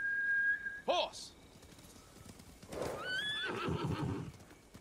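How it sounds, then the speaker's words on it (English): A trained samurai horse in Ghost of Tsushima gives a loud, sharp whinny, then after a pause a second neigh rises over the steady clip-clop of hooves approaching. "Horse!"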